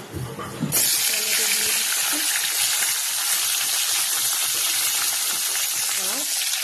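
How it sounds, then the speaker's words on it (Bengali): Dried red chillies, cumin and bay leaves hit hot mustard oil with a sudden loud sizzle that holds as a steady, close crackling hiss, with a bit of utensil noise just before. "একটু মশলাটা ফোড়ন দিয়ে নিচ্ছি।"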